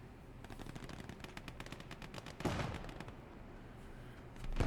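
An old BT-7 tank fires in Gates of Hell: Ostfront on a farmstead battlefield, heard as rapid machine-gun bursts and a heavier cannon boom amid continuous distant gunfire, with no talking.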